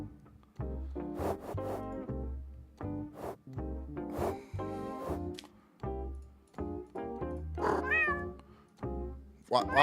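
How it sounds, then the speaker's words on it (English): A cat in a courtroom judge simulator game meows repeatedly in short, close calls with brief gaps between them, including a rising, drawn-out meow near the end. "Why does the cat make noise?"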